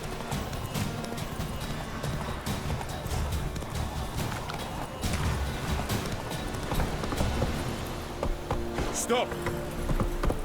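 Galloping hooves of Roach, the horse in The Witcher 3, a fast steady clip-clop running throughout, with brief voices calling out over it and a short whinny near the end.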